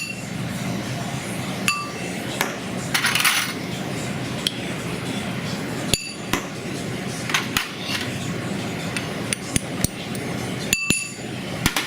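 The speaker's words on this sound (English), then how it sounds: "We also have a little bit of fresh thyme that we put in there. And we just whisk this together." Maple syrup, fresh thyme and chopped shallots whisked together in a bowl for a salmon glaze, giving close, irregular clinks and taps of metal against glass over a soft background hum.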